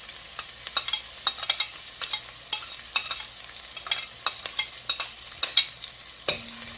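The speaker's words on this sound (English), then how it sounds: "We have some oil in this pot here hot, and we're going to add some chipped onions, garlic, and pimentos." Chopped onions, garlic and pimentos frying in hot oil in a pot, a steady close sizzle with repeated crisp crackles and stirring scrapes, no talk.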